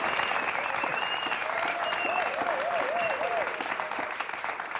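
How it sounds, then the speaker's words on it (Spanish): An audience applauds a poet at a poetry dialogue event, with dense, steady clapping that carries on throughout at an even loudness. "Un gran aplauso para nuestro poeta querido"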